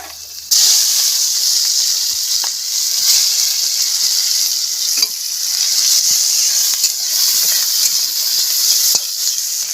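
Chopped onion hits hot oil in a kadai over a wood-fired village stove, bursting into a loud, steady sizzling hiss that continues throughout with small crackles.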